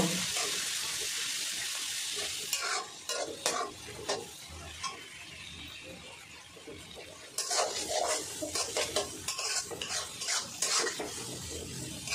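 Chicken fried golden brown sizzles in a pot as ginger-garlic paste is stirred in, steady frying hiss with repeated spoon scrapes and clinks against the metal, close up, with a voice talking briefly.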